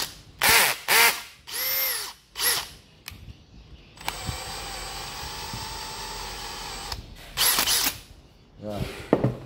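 Japanese cordless battery drill with a 13 mm metal chuck, giving several short whirring bursts with brief pauses, then a longer steady run, then more quick bursts, close and clear with no voices.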